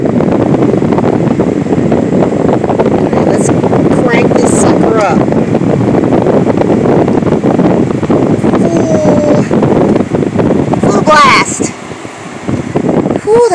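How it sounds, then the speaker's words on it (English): A DuroMax dual fuel generator runs steadily nearby with a constant mechanical drone and fan-like whoosh, wind buffeting the microphone throughout; a few brief squeaks and clanks occur near the end. "Absolutely no change in the sound of the generator."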